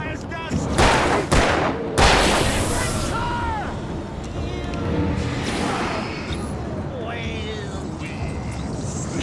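Sharp bursts of gunfire in the video game Alan Wake crack in the first couple of seconds, followed by softer game effects and chirping tones.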